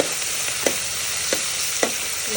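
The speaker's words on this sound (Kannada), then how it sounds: "ಸ್ವಲ್ಪ ನೀಟಾಗಿ ಇದು ಫ್ರೈ ಆಗಲಿ ನೀಟಾಗಿ ಫ್ರೈ ಆಗಿವ ಉಳ್ಳಾಗಡ್ಡಿ" Onions fry in a pan with a loud, steady sizzle, broken by three soft spatula scrapes spaced evenly apart.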